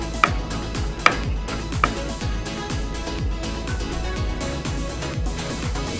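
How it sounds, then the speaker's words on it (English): Bacon chopped coarse with a knife on a cutting board, a steady series of close, crisp knocks, with a few sharper louder chops near the start. "We're gonna chop our bacon up."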